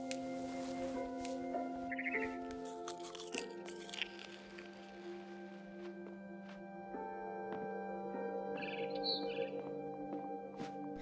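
Barn swallow chirping in the video game What Remains of Edith Finch, short faint tweets scattered over a quiet, humming ambient background with some crunching sounds.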